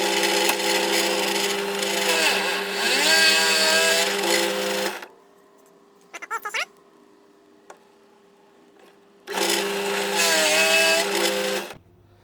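A power drill bores into wood for a cake carousel build, two loud sustained bursts of whirring and grinding with a short rev and some light clicks in the quiet gap between them.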